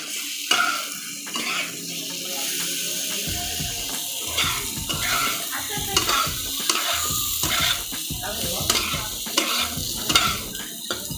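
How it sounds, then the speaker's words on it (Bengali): Tomato pieces hitting a pan of frying potato and parwal for a paneer curry, loud sizzling with repeated spatula scrapes and clatter against the metal, close by. "এখানে দিয়ে দিব 4 টুকরার মতন কেটে রাখা টমেটো"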